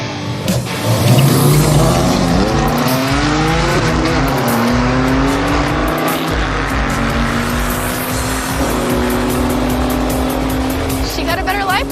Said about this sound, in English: We have Amanda in the Challenger, and then we have Johnny and his BMW